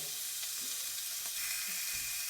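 Strips of fajita meat sizzle steadily in a hot pan, a soft continuous hiss with a few faint clicks and taps close by, no voices.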